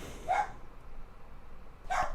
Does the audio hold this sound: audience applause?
no